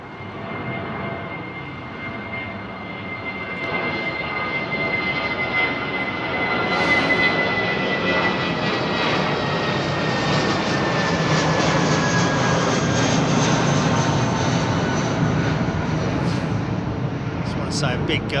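Wide-body jet aircraft at London Heathrow, its engines roaring steadily and loudly for the whole stretch, swelling slightly midway as it passes, with a voice talking over it.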